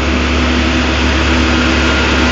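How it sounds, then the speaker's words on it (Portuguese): Caterpillar 12G motor grader driving on an asphalt road, its diesel engine pulling under acceleration as a loud, continuous low drone with a steady hum and broadband roar, no voices. "nós aí na 12G, acelerando no asfalto"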